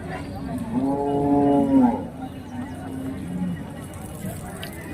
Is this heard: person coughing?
no